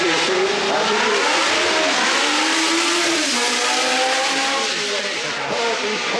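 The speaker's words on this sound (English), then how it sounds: "I'll leave the final video just showing a blast pass from an old McLaren Formula 1 car" An old McLaren Formula 1 car blasts past at speed at a motorsport festival, its high-pitched engine screaming loudly with rising and falling revs through gear changes and a pitch drop as it passes.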